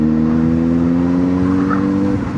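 A Ford Ranger rolls past nearby with a loud, steady engine drone and a low rumbling whir that holds throughout, heard close from the roadside.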